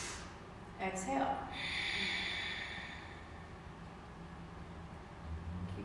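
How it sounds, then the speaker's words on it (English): Ujjayi ocean breath during a yoga class, a heavy, hissing exhale at the back of the throat followed by softer breathing, close and fairly quiet. "exhale hot and heavy in the back of the throat, like you're trying to fog up that bathroom mirror"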